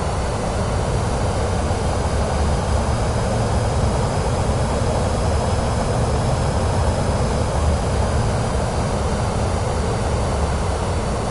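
A propeller airplane engine drones steadily during a climb in Microsoft Flight Simulator 2024, a dense, even, loud roar with no breaks for the full length.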